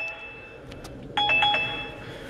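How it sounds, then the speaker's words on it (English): An electronic phone ring chirps twice in quick succession, moderately loud and close, over a faint background hum. "my phone's ringing off the hook"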